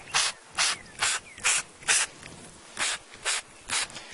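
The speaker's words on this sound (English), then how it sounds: "And shake them and spray them some more." A hand sprayer mists sugar syrup over honeybees in a beekeeping setup, firing about nine short, sharp hissing bursts in a steady rhythm, close and clear with no talking.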